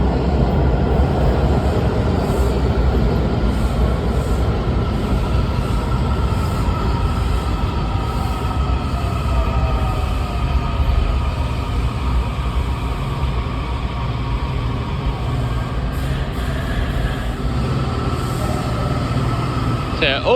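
A DC Metro subway train running under automatic train operation, a steady loud rumble of wheels and motors throughout, with faint brakes or track hiss near the end.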